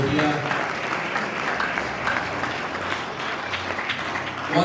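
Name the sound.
audience applause at club season launch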